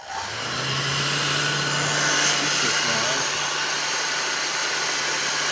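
A heat gun heating shrink tubing around a wire on an exercise bike's tension adjustment makes a close, steady blowing whoosh with a low motor hum that starts up and holds evenly.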